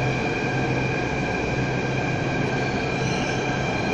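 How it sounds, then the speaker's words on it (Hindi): A Jaipur metro train runs past with a steady, even roar and a faint hum of wheels on rail, continuous and fairly loud throughout, with no speech. "जयपुर के तरफ एक और मेट्रो जा रही है।"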